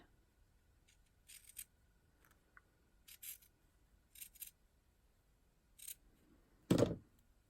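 Scissors snip through paper from a craft paper pad in several quick, quiet bursts, followed by one louder thud near the end, in an otherwise hushed room.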